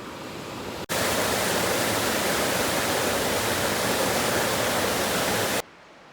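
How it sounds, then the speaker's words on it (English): The high, swollen Alsea River rages past in a dense, steady roar of rushing water close by, continuous and loud with no voices, cutting off abruptly at the end. "look at what this river is doing right here. It is just raging through here."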